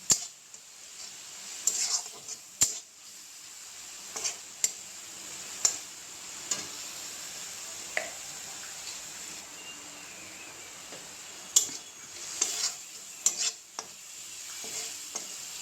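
Ground cumin and coriander fry in a pan with a splash of water, a soft continuous sizzle broken by scattered clinks and scrapes of a spoon stirring against the metal, fairly close and moderately quiet.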